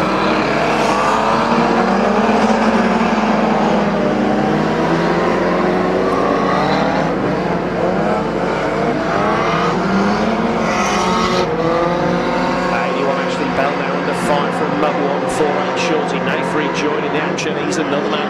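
Banger racing cars at Kings Lynn's 2013 Nutcracker meeting drone and rev continuously, engines rising and falling with scattered clatters, while a commentator calls the action throughout.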